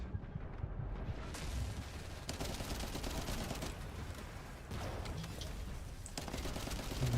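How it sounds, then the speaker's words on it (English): Dense, rapid gunfire in The First Descendant rattles continuously with overlapping bursts and booming impacts, loud and close throughout, with no talking. "Let's start spamming here with gunfire."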